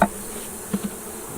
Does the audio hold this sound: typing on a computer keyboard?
no